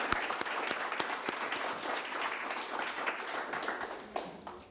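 A studio audience on a Turkish television music show gives strong applause, a dense crowd clapping with a few sharp, louder claps standing out and fading slightly near the end.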